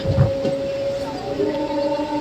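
A MEMU passenger train pulling away from Nuzvid halt station on the Narasapur–Machilipatnam line, heard from on board as a steady low rumble with a sustained tonal hum, a faint squeal and a soft knock early on.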